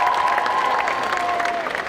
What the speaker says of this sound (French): Allez, on l'applaudit encore s'il vous plaît.